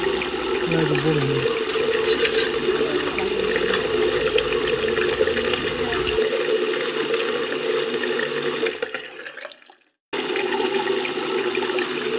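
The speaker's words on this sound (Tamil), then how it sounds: "தண்ணி போடுங்க" Water pours steadily into a pot for a 1 kg home-made chicken biryani, a continuous rushing splash lasting several seconds before it abruptly cuts off.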